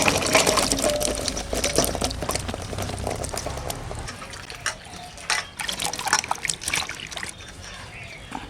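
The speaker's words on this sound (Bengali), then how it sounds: "একটু জল দিয়ে দিই" Water is poured into a pot of washed potatoes set to boil, a steady splashing stream for about four seconds, followed by fainter trickles and clatter as a voice talks over it.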